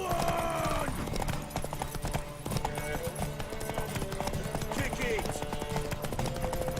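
Horse galloping in The Witcher 3 video game, rapid rhythmic hoofbeats with occasional whinnies, close and continuous under game music and a shouted line of dialogue.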